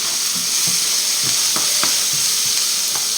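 Butter, a salted demi-sel kind, sizzles steadily in a pan with olive oil as a cut of beef begins cooking, a constant close hiss with a few light utensil clicks scattered through it.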